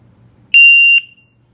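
A single sharp electronic start beep from an Indesign-Tech PIE wireless shot timer target, sounding after a two-second delay, loud and close, lasting about half a second and then stopping in near silence.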